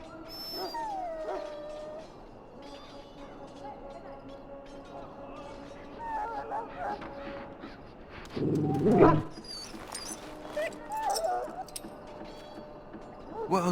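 A dog in Dragon Age: Origins at Ostagar whimpers and yips softly, then lets out a sharper burst of barking partway through, with voices talking nearby.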